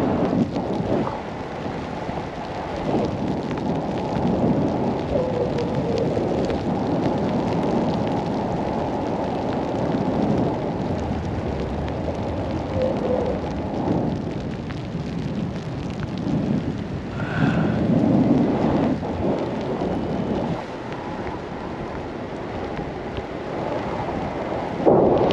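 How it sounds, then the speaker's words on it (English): Heavy rain pours steadily during an alpine storm at Chamonix, a dense continuous hiss with low rumbles of thunder rolling underneath, sustained and fairly loud for the whole stretch. "Still fucking raining."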